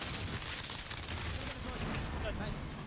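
Rapid gunfire from a first-person shooter video game, a dense continuous burst of shots filling the clip under excited player voices talking over it.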